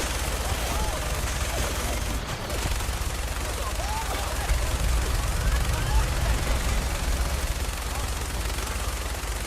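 Rapid energy weapon fire in Fallout 4, a dense continuous barrage of shots and blasts running throughout at steady loud level, with a crackling, echoing mic adding harshness.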